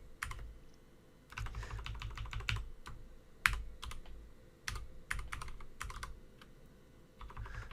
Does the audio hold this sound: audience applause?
no